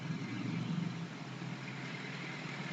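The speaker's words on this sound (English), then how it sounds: "There's a tractor going up the road right now." A tractor travels up a rural road outdoors, giving a faint, steady, low engine rumble that holds even throughout with no talking.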